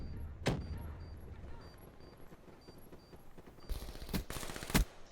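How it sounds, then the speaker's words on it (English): Single gunshots crack out in a 3v3 online shooter match, one loud burst early, then several sharp shots clustered near the end over a low background rumble. "I was shooting one bullet at a time."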